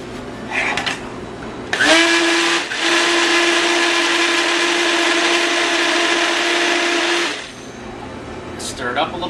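A kitchen blender pulses while making cha-cha sauce, its loud whining motor running for about five seconds with a brief dip near the start, bracketed by quieter handling noise.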